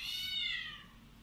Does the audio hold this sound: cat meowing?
yes